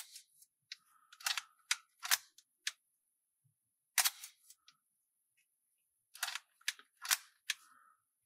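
A Leica M3 rangefinder camera's mechanical shutter fires at 1/15 second, repeated several times. The crisp, close clicks come in short groups, each with a slight bounce after the exposure, against near silence.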